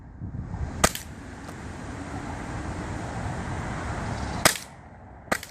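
An Umarex Walther PPQ gas blowback airsoft pistol fires outdoors, with three sharp, close cracks spaced seconds apart over a steady low rumble of background traffic.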